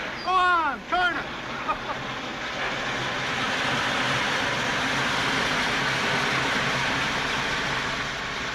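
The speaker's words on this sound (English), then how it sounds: "the blow-off valve, Tag. Go on, turn it." A steam locomotive's blow-off valve vents steam in a loud, steady hiss that runs for several seconds after a voice calls out at the start.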